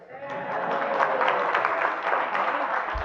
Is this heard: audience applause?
yes